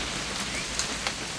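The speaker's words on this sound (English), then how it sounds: "It's gonna rain the whole weekend," Rain falls steadily in What Remains of Edith Finch, a continuous hiss with a couple of faint drip-like ticks.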